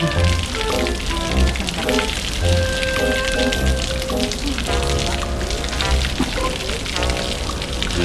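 Water pours and splashes continuously during an outdoor shower in the mountains, a dense hissing spatter under lively music and occasional voices.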